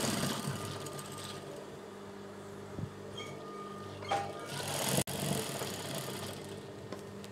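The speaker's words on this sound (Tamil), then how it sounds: "இது சைடு மடிச்சு தைச்சிக்கோங்க." A sewing machine stitching the folded side seam of a churidar top, a faint steady whirring hum with light mechanical rattle and a few small clicks, heard alone without talk.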